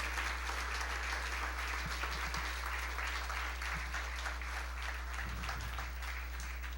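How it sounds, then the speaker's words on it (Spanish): Congregation applause during a church finance seminar, a steady, fairly faint wash of clapping over a constant low electrical hum, continuing without voices. "Dale un fuerte aplauso al Señor."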